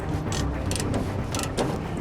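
A chain binder is ratcheted tight on a heavy rescue truck on a frozen road, giving short bursts of metallic clicking over a low engine rumble, with no talk.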